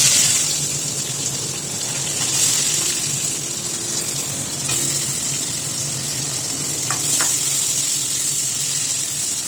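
Chopped onion frying in mustard oil in a wok, a steady close sizzle and hiss with no talk.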